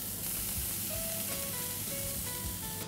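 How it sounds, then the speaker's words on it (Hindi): Ginger, onion and gram flour fry in hot oil in a pan, giving a steady, close hiss of sizzling that runs unbroken for the whole stretch, with no voices over it. "इसमें हम डालेंगे अदरक और प्याज। इसे अच्छी तरह से भून लेते हैं"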